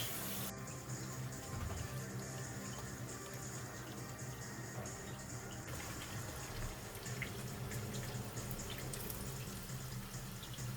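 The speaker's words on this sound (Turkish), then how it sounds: "Sonra üstüne su dolduruyoruz" Water is poured into a cooking pot of maklube in a home kitchen, giving a steady, faint, continuous splashing rush that runs for the whole stretch with no talk.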